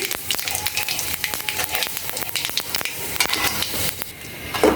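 Panch phoron whole spices with turmeric sizzle and crackle in hot oil for a vegetarian drumstick-and-potato charchari, a steady close frying hiss broken by sharp pops and spatters throughout, no voices.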